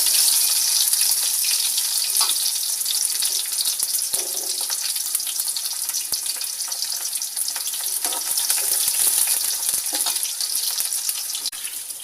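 Sliced garlic and shallots frying in hot oil for nasi liwet, a steady hiss and crackle that runs throughout, with a few faint utensil clinks and no voices.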